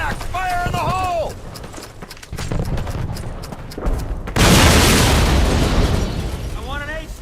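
A grenade blast in Call of Duty's Burnville mission: after shouted commands and rumbling gunfire, a sudden loud explosion hits near the middle and leaves a long roaring, crackling wash, with another voice coming in at the end.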